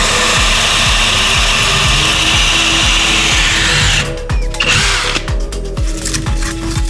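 An Einhell cordless drill with a Forstner bit bores into walnut, a loud steady whine with rhythmic cutting chatter. The pitch shifts partway through as the bit bites harder and chips fly.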